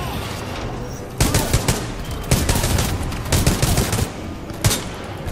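Rapid bursts of automatic gunfire from a gun in Titanfall 2, loud and close, coming in several sharp volleys separated by short pauses.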